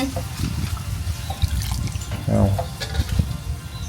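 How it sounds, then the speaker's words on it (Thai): Freshly foraged wild mushrooms are rinsed by hand in water, with close splashing, sloshing and trickling that rises in a brief louder splash, while a voice may be faintly present. "ล้างสักสองน้ำเนาะ"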